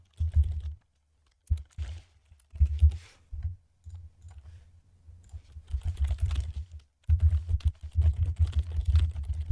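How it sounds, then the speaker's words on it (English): Rapid typing on a computer keyboard right next to the microphone, in bursts of clacking keystrokes separated by short pauses. "I do apologize if this is really loud. The mic is right next to my keyboard."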